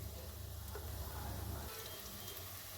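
Langcha sweets frying in oil in a pan over a very low gas flame, a steady soft sizzle with a low rumbling bubble underneath that drops a little toward the end, continuous and close.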